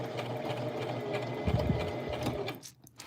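A Brother LX 3817 sewing machine stitches a button on slowly, its steady mechanical whir and needle clatter running close and continuous for about two and a half seconds, a little louder midway, before cutting off into near silence.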